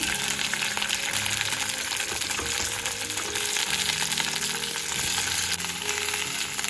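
Tomato pieces hit hot oil in a frying pan and set off a loud, steady sizzle with some bubbling and stirring noise throughout, close up and without any voices.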